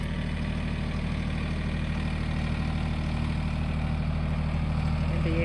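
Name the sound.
tractor engine idling while pulling wire taut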